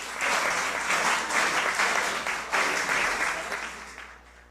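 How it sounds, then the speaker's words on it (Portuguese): A round of applause at a municipal chamber award ceremony, dense clapping in gentle swells that fades out toward the end. "Uma salva de palmas."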